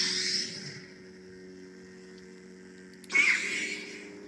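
Steady electric hum of a Sabertrio Neosaber Neopixel lightsaber running Kylo's The Balance sound font, a low droning buzz that briefly swells louder near the end, with no talking.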